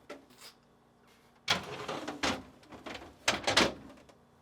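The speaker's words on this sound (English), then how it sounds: "Start by opening the doors. Then, pull the drawers out so that they are fully extended, tilt up, and pull out to remove." A GE refrigerator's doors swing open and its deli drawers slide out, giving several separate clunks and sliding bursts in a quiet room at moderate loudness.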